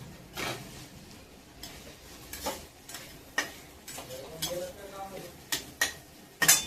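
A spoon stirs salted okra curry (bhendi bhaji) in a pan, producing a run of light scrapes and clicks against the metal at an uneven rhythm, close by but soft, with a faint sizzle underneath.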